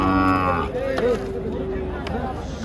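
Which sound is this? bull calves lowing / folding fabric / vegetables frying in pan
bull calves lowing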